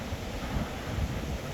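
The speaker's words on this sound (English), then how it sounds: "That waterfall right there is one of the most impressive." A waterfall in Cleburne State Park in spring, dropping through thick vegetation, gives a steady, dense wash of rushing water heard close up, unbroken and without voices.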